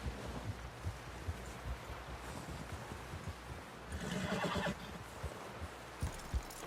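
A horse in Red Dead Redemption 2 whinnies and clip-clops along in a steady hoof rhythm, fairly quiet, with wind and rustling foliage in the background and a louder burst of movement midway.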